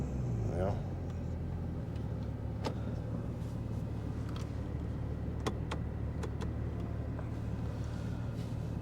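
Porsche 911 GT3 with an automated manual gearbox reversing at low speed, its engine holding a steady low drone while the clutch slips, with a rising whine early on and a few faint clicks and knocks.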